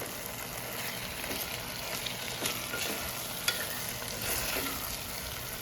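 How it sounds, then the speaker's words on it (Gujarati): Rice being stirred into a cooked spice masala in a pan for a biryani-style dish: a steady soft sizzle with scraping strokes and occasional clicks of the utensil, close by, with no talking. "મસાલામાં આવી રીતે ભાત નાખીને થોડીક વાર હલાવીએ"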